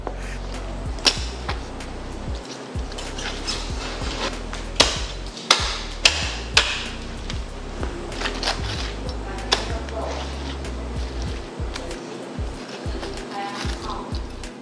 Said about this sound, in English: With a few heavy, deliberate cuts, the head and gills are gone.